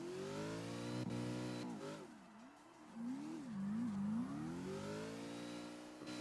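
A supercharged 6.2-litre V8 E36 drifting in CarX Drift Racing, the engine wailing steadily and wavering up and down in pitch as the throttle shifts, heard from a distance and fairly quiet, with no talk.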